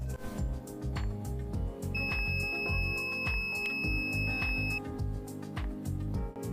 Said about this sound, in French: En appuyant sur la touche, le signal sonore s'active aussitôt.